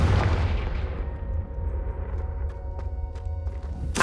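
A Confringo fire spell explodes in Hogwarts Legacy with a heavy boom at the start, then a rumbling decay that fades under faint crackles and a sharp pop at the very end.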